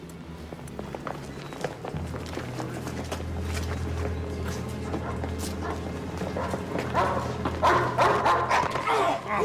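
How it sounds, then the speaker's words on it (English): Healthy dog barking and yipping indoors at a middle distance, with several short barks spread through the scene over movement noises and a low background hum. "Don't worry, the dog is healthy."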